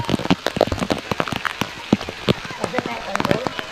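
Rain falling at an underground river lagoon, heavy scattered drops pattering irregularly on water and surfaces close by, with a voice briefly audible.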